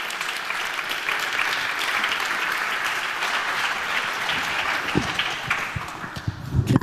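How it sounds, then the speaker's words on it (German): An audience applauds steadily as a speaker is welcomed onto the stage at a youth climate keynote. The clapping is dense and sustained, and a few louder claps stand out near the end. "Bitte komm zu uns herauf mit einem Applaus."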